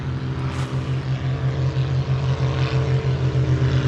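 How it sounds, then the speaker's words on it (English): A propeller airplane drones steadily nearby, its low engine throb pulsing rhythmically and fairly loud throughout. "that's an airplane, my cousin flying an airplane behind me"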